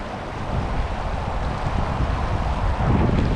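Steady, loud wind buffets the microphone outdoors beside a trout river during fly fishing, a continuous rushing roar with no pause.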